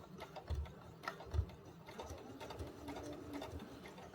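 A sewing machine running a basic straight stitch around a sock cat toy, a continuous close mechanical hum with ticking needle strokes and a couple of heavier thumps near the start.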